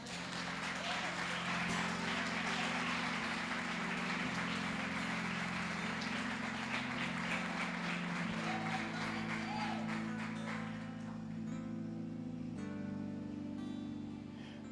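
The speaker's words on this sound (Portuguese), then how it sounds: "Você pode aplaudir o Senhor?" Church congregation applauding during a worship service, a steady wash of clapping under sustained organ or keyboard tones, fading out toward the end.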